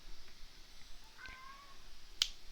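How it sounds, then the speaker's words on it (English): A house cat gives a faint, short meow, with a sharp brief click near the end over quiet room noise and no talking. "My cat is being a bad cat."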